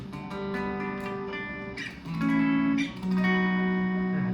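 A PHX ST-1 Stratocaster-style electric guitar with single-coil pickups plays distorted sustained chords and single notes, bright and gritty, with short pauses between phrases and no voices.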